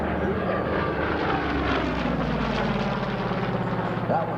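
Vintage warbird aircraft, such as an FG-1D Corsair, Catalina or TBM Avenger, passing at a Geneseo airshow, a steady loud propeller-engine drone held throughout, with announcer talk over it.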